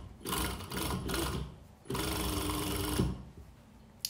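A sewing machine runs in two rapid stitching bursts along the front center seam of homemade shorts, a close, buzzing mechanical whir separated by short pauses.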